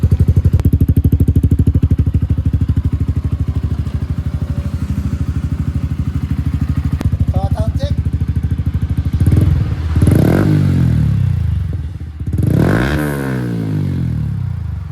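Close and loud, a Suzuki Sniper 155 motorcycle fitted with a TRC power pipe exhaust idles with a rapid, steady thrum, then revs several times in rising and falling surges before settling back.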